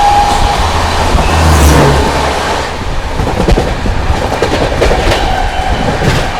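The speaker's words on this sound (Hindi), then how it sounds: "क्या ओवरटेक मारा है भाई बिहार संपर्क ने, गजब की हॉकिंग।" The Bihar Sampark Kranti Express runs at speed while overtaking another train, giving a loud, continuous rumble with rhythmic wheel clatter. A brief horn sounds early on.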